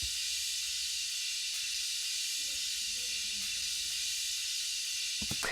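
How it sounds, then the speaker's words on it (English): Bright cymbal wash picked up by the left overhead mic above a drum kit, a dense sustained shimmering hiss, steady and loud, with a louder hit near the end. "Yeah, so just really picking up that bright cymbal sound"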